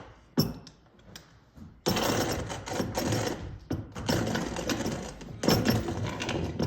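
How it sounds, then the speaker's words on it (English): A coffee grinder grinding beans for pour-over coffee, loud whirring bursts that start and stop several times, with clattering beans between runs. "So, let's grind it."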